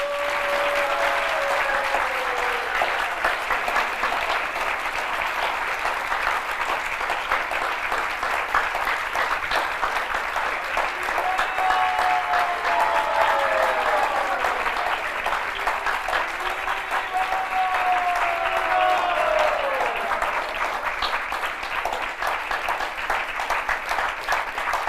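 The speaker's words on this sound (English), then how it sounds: "Give them their blessings by a long, extended applause." A long, sustained round of applause from an audience at a kirtan festival in Rishikesh during Gaura Purnima celebrations, steady and full throughout, with faint melodic tones drifting underneath.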